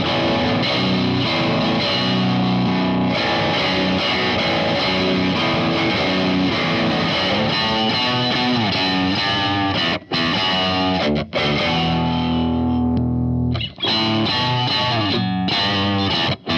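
High-gain electric guitar through a Strymon Iridium amp modeler, heavily distorted and dense, with chords and riffs played continuously at full loudness, broken only by a few brief stops near the end.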